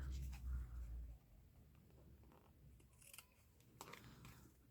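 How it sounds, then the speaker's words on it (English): Handheld scissors snipping paper for a shared traveling journal, a few faint close crisp cuts and rustles after a low rumble at the start, quiet and sparse. "handy dandy scissors"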